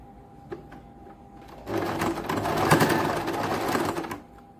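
A sewing machine stitches a folded-over fabric edge while making a blouse dori, starting with faint handling noise, then breaking into a steady, loud whirring run of about two and a half seconds before stopping.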